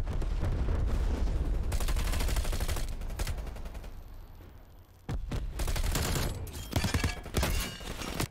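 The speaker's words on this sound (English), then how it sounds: "I'm being shot from multiple directions." Heavy gunfire from multiple directions in the video game Black Ops Cold War, with sustained rattling volleys that thin briefly and then return as loud sharp bursts.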